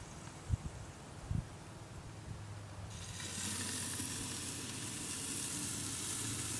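Ribeye steaks sizzle on a ceramic tabletop kamado BBQ outdoors on a cold, rainy day. A couple of light knocks come first, then a loud, steady sizzle swells up and keeps going without a break.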